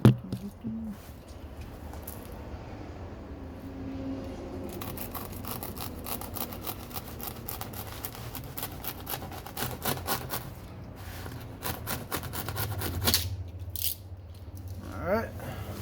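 A blade cuts through artificial turf, making close, repeated rasping scrapes and rustling strokes that grow denser and louder toward the end.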